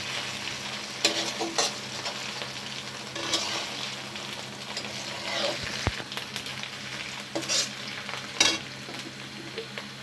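Onion frying and being stirred in a pan while a chichinga and coconut fry is cooked: a steady close sizzle broken by repeated scraping strokes of the spatula, with no talk.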